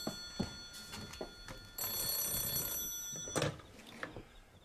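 A telephone rings in a quiet room with a steady electronic warble, broken into a few bursts with brief gaps between them, moderately close and alone with no talk.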